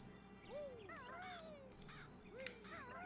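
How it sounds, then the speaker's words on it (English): Eerie the eagle calls in Banjo-Kazooie, a faint, distant cry of a few rising and falling squawks, repeated over about three seconds against quiet game background sound. "We can hear Eerie above us too, the eagle that we need to feed"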